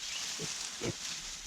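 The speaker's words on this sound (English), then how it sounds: "we got pigs, and we have named them already." Pigs on a homestead give three short, soft grunts spaced about half a second apart over a steady hiss.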